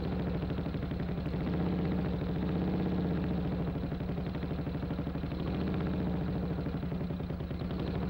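A 1942 British Army training motorcycle's engine runs steadily under throttle, a continuous even drone heard up close with a slight rise and fall in the middle.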